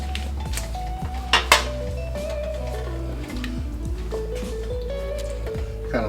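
Scraping and clinking of a utensil stirring spaghetti meat sauce with tomato paste, tomato sauce and butter in a metal pot, irregular close knocks and rubs with a couple of sharper clanks.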